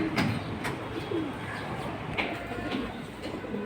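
Racing pigeons coo softly in short repeated phrases at a dealer's loft, a low murmuring under faint background noise.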